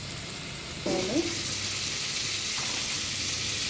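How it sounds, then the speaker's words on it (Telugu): Drumstick and coconut curry frying in a pan, a steady soft sizzle with a brief louder burst of stirring near the start, then settling into an even crackle. "కూడా వేసి వంకాయ వేయదాకా కాసేపు ఫ్రై అవ్వాలి"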